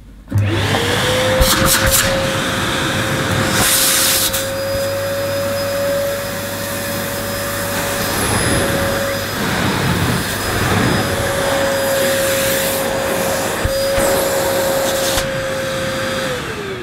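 A Nilco S12 commercial tub vacuum cleaner runs loud and steady throughout, a constant motor whine with a few brief airy surges where the hose is handled, and no talking over it.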